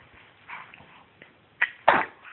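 A dog gives a couple of short, sharp sneezes close by, snorting bursts near the end of an otherwise quiet moment.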